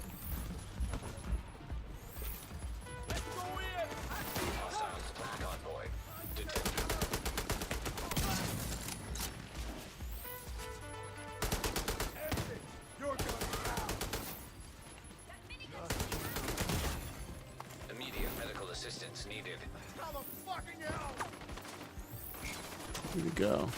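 Video game gunfire in The Division 2: dense, sustained bursts of automatic rifle fire and single shots against enemies, loud and continuous with brief pauses, mixed with game effects and someone talking over it.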